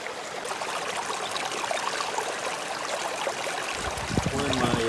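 Creek water runs steadily into a small pool four to five feet across in the Blue Range Primitive Area, a constant close rushing and trickling with a few louder splashes near the end.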